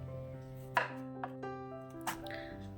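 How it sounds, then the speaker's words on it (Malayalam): A knife chops green cooking plantains on a board in a home kitchen, giving three crisp, close taps spaced about a second or more apart against a soft, steady background hum. "അതിൻ്റെ 2 സൈഡും ഒന്ന് കട്ട് ചെയ്ത് മാറ്റിയതിന് ശേഷം നടുകെ മുറിച്ചെടുക്കാം"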